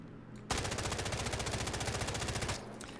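A weapon fitted with a resonant ergonomic grip fires a single sustained automatic burst in a Delta Force video game firing range, rapid evenly spaced loud shots lasting about two seconds before cutting off abruptly.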